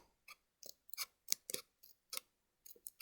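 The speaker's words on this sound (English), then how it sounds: "I'm going to cut out a little tiny slot" Fine scissors snipping a tiny slot in paper while folding an origami shrimp: a series of about ten short, crisp snips in an irregular rhythm, close and clear with quiet gaps between them and no talk.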